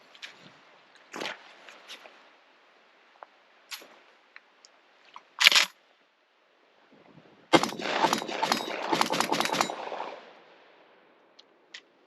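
A Mossberg 930 semi-automatic shotgun fed cheap ammo fires outdoors in poor weather: a few scattered reports first, then a fast, dense string of shots in quick succession before it falls quiet.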